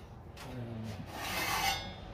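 A metal sled sliding out of a Masterbuilt smoker set to 225, a brief rubbing, rasping scrape that swells and fades over about two seconds, close by and fairly quiet, with no talk.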